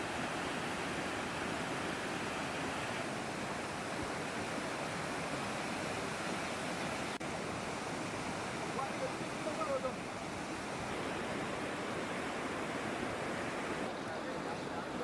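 Floodwater from the North East India floods rushes in a steady, dense roar over roads and under a bridge, unbroken for the whole stretch with no pauses.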